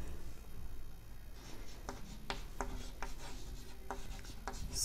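Chalk or a pen scratches and taps across a board in short strokes, a run of quiet, close scrapes and clicks spaced irregularly, with no voice.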